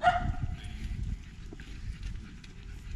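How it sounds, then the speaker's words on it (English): A small yappy dog barks in short, sharp bursts, loudest at the start and then continuing more faintly in the distance outdoors near a bridge. "by the yappy dog tree"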